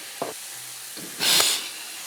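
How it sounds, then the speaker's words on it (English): A pot of pumpkin simmers with a low background hiss, then swells briefly into a louder sizzling burst before settling down, alone and close. "we're gonna let this simmer for 5 to 8 minutes until the pumpkin melt down"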